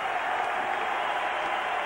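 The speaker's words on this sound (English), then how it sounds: "the crowd's really into this now" A basketball arena crowd roars and applauds during a 1988-89 DePaul versus Illinois State college game at Horton Field House, a dense, steady wall of cheering that fills the whole moment.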